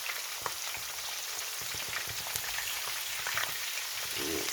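Sea bream frying in a pan, a steady close hiss of sizzling with dense crackling spatter like rain, continuous and even throughout with small pops scattered across it, no voices.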